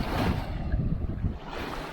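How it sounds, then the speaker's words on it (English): Choppy waves wash and slap around a 2020 Sea-Doo RXT-X 300 supercharged jet ski on the water, a steady close rumble mixed with wind buffeting the microphone. "Maybe these waves will calm down so it won't be so loud on the video."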